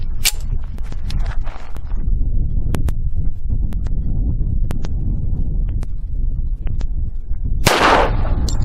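A Thompson Auto-Ordnance 1911 .45 pistol, fired weak-handed, gives one loud, sharp report near the end, preceded by scattered handling clicks and faint outdoor background.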